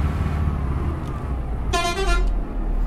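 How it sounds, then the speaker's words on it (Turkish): An Otokar Magirus M-2000 bus sounds its relay horn in one short, loud, bright blast over a steady idling engine rumble inside the vehicle. "Röleli korna."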